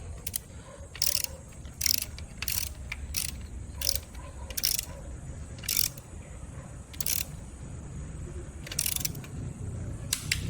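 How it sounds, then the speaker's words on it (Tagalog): Torque wrench tightening the terminals of a Tesla Gen 3 Wall Charger being installed, a series of sharp, evenly spaced ratchet clicks over a low background hum, close and fairly quiet. "Nakaset na yung torque wrench ko para dun."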